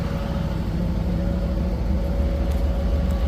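A 1996 Chevy Camaro Z28 V8 runs at a steady idle, a continuous low rumble with a slight lope, fairly close and without talk over it.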